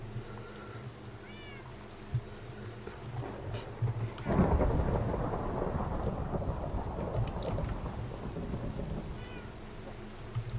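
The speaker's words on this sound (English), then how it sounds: "The thunderstorm can't hurt us if we're asleep, right?" A thunderstorm in the Minecraft video game: a sudden thunder crack breaks in about midway and gives way to steady rolling rain, with faint meowing cat calls earlier and near the end.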